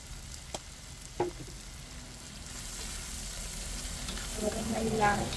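Pumpkin seasoned with salt and pepper sizzles and fries steadily in a pan, a soft continuous crackle with a few sharper spatters and stirring scrapes, growing slightly busier toward the end.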